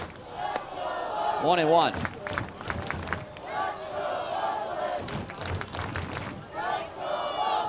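Crowd noise from a sellout ballpark audience at a Modesto Roadsters vs Oakland Ballers minor league baseball game, a steady murmur with swells of shouting under close play-by-play commentary.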